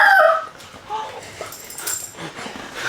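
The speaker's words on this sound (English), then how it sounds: "These dogs are having a fun time in here." Several dogs play inside a fifth wheel trailer, giving high excited yips and whimpers in quick bursts, fairly close, with people talking faintly underneath.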